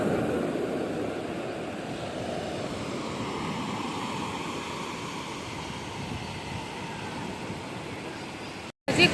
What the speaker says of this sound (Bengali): এই জল এসে গেছে